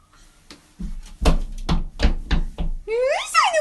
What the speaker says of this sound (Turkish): Bak kapıyı çal anneciğim